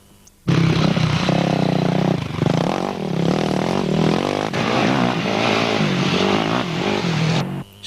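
Yamaha YFZ 450 quad bike racing in a 2005 British quad event at Long Compton or Selattyn, its engine note loud and close, revving steadily and rising and falling as it passes, with no talk over it.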